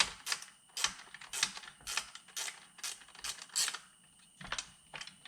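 Bolts on a C4 Corvette seat track are snugged up with a ratchet, producing quick bursts of sharp clicking with brief gaps. The sound is close and quiet, with no speech.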